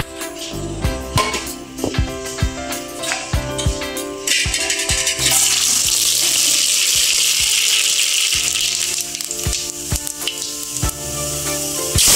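Oil is poured into a pan heating on a gas stove and starts to sizzle loudly and steadily. Earlier there are clinks and scrapes of utensils, with a louder knock at the end.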